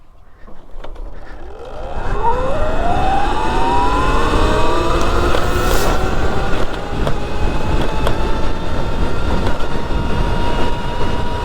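A Surron electric dirt bike on stock sprocket at full throttle in a top-speed run, a steady whine rising in pitch as it accelerates and then holding high and loud, with heavy wind roar throughout.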